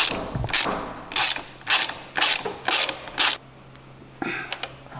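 A ratchet wrench clicks in seven regular bursts as a part on a scooter is tightened, then a short pause and a few quieter clicks, close-up with no talk.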